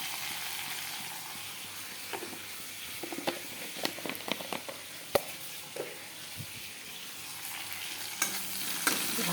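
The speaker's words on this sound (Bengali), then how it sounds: "জিরা দিয়ে দিলাম, আর এই যে গরম মশলাটা দিয়ে দিব।" Cumin seeds and garam masala frying in a pan in a home kitchen, a soft, steady sizzle and hiss with irregular scrapes and taps of a spatula stirring, fairly quiet and with no speech.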